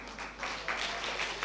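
An audience at a children's naat competition breaks into applause, a dense, moderately loud wash of clapping that swells slightly and carries on throughout.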